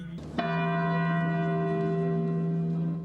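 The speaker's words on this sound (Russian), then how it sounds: "Звон колоколов, часы бьют ровно 10" A large church bell strikes once after a brief noise as a clock strikes ten during a Victory Day parade in Kazan, its deep resonant tone ringing and sustaining loudly, humming on without fading much.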